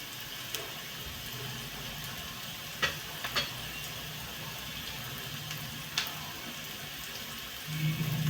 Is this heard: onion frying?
yes